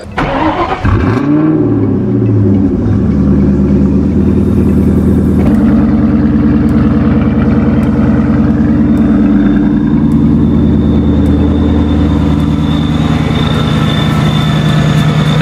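A car engine with a modified supercharger cold-starts with a loud crank and catch, then settles into a steady, loud idle, with a sustained high-pitched supercharger whine running over the engine drone.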